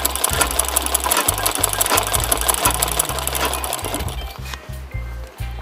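Sewing machine stitching embroidery onto a dress shirt, a loud rapid mechanical chatter in bursts with short pauses, close up and with no talk.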